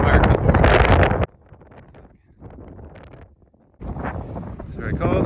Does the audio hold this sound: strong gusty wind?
yes